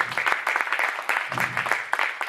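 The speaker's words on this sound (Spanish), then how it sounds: "dale un aplauso a Jesús" Church congregation applauding for Jesus during a worship service, a dense, steady wash of many hands clapping at close range for a couple of seconds.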